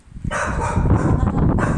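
A dog barks and yips continuously and loudly up close outside a house where kittens live, in a dense, unbroken stretch of barking.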